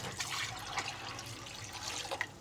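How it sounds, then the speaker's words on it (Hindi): Water pouring into a pot of soaked lentils while preparing chicken shami kabab, a steady splashing, bubbling stream heard up close and alone. "अब इसके अंदर हम पानी डालेंगे"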